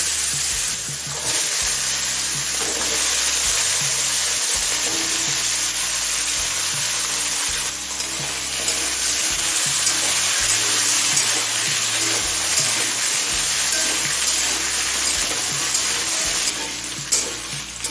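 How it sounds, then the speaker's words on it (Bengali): Potato and carrot pieces frying hard over a high flame, a steady loud sizzle running throughout with occasional clinks and shuffles of stirring in the pan. "আলু আর গাজরটা হাই ফ্লেমে পাঁচখানে ভেজে নিয়েছি"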